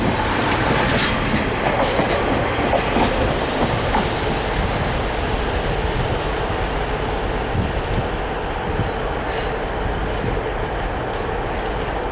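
An East Midlands train with VP185 engines passes close by, loud and continuous, with rumbling engine noise and the rhythmic clatter of wheels over rail joints filling the whole stretch.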